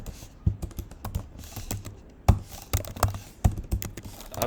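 Computer keyboard keys struck while typing code, a close irregular run of clicks and a few heavier thumps, steady and alone.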